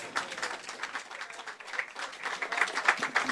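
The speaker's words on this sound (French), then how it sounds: "Merci, on peut les applaudir." An audience at a football pitch lighting inauguration claps continuously, a dense patter of many hands that swells slightly toward the end.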